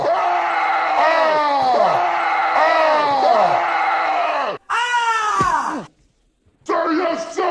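A man in a Vietnam War drill setting screams as loud as he can, letting out a run of long, harsh, bellowing yells close up, with brief pauses and one short gap of silence.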